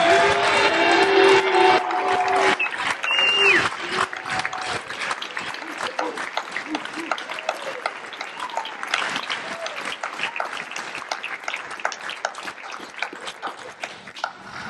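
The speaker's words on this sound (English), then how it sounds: "Please join me in a round of applause to show our appreciation for his dedicated service to our nation." Applause at a military retirement ceremony for a departing training squadron member, a loud crowd of clapping starting under lingering voices and a brief tonal sound, then continuing as dense, steady clapping across the room.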